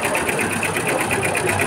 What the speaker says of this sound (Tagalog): Ito po yung embroidery machine po namin